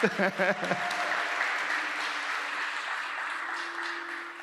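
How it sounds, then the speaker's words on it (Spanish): A short burst of applause and clapping from a church congregation during a sermon rises at the start, then fades into a soft, lingering room murmur. "Pueden darle palmas a los legalistas."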